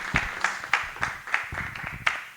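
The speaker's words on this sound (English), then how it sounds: "let's give them a big round of applause" Audience applause at a small business pitch meetup, a thin, steady run of evenly spaced hand claps, fairly close and moderate in loudness, with no speech over it.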